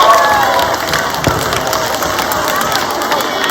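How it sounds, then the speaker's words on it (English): A room of children at an author and illustrator visit applauding and cheering, steady sustained clapping with shouts mixed through it, loud and full throughout. "Can you give yourselves a round of applause?"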